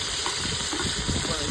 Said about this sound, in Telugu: వీటన్నిటిని పచ్చివాసన పోయేంత వరకు బాగా దోరగా వేయించుకోవాలి